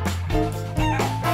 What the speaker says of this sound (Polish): To kurczak i robi... Ko, ko, ko, ko, ko, ko.